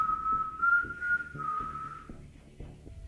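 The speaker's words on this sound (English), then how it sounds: "Bird whistling." Clear, sustained whistled tune, several bird-like notes in a row for about two seconds, then fading into low rumbling room noise with a few soft knocks; no talking.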